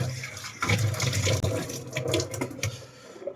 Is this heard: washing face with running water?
yes